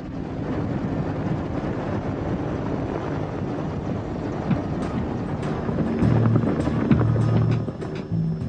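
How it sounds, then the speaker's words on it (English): A Mi-24 Hind assault helicopter captured from Iraqi troops in the Gulf War, its engine and rotor giving a steady broadband roar with some wind buffeting and a low droning hum that swells toward the end. "An Mi-24 assault helicopter captured from Iraqi troops in the Gulf War."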